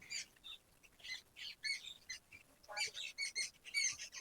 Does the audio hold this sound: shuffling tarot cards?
no